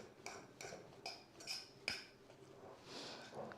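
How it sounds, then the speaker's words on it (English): A fork scrapes and taps against a dish while fluffing cooked bulgur wheat mixed with kidney beans, making a handful of quiet, close clinks spaced unevenly, then a soft rustle. "I'm just going to fork it through so I can just loosen it up for you."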